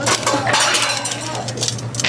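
Metal kitchen utensils clink and rattle in a cooking classroom, several sharp light chinks scattered over a low steady hum, fairly close and moderately loud.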